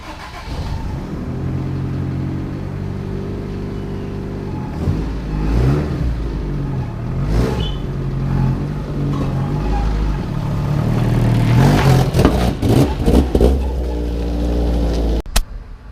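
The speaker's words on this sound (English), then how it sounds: "So I did my first burnout." A Toyota AE86 with a 20-valve engine revs hard and repeatedly during a burnout, climbing and dropping, building to a loud sustained roar near the end, close by and unaccompanied by talk.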